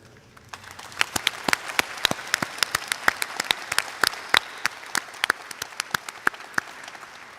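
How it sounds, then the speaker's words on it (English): Scattered, distinct hand claps ring out from a graduation audience, individual sharp claps in an uneven rhythm, fairly quiet and somewhat distant rather than a full roar. "Let's have a round of applause for all of us and our school."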